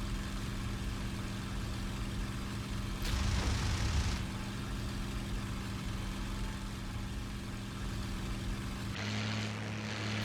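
A WWII propeller fighter in a flight sim game, a P-38, P-51D or Tempest, takes off with a steady droning engine hum, a short louder surge partway through, then a shift in tone near the end, with no voices.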